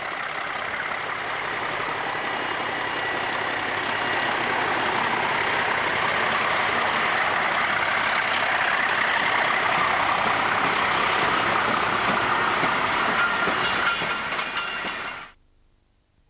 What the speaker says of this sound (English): Replacement loco 37668 is seen passing by with a working from Park and Diller.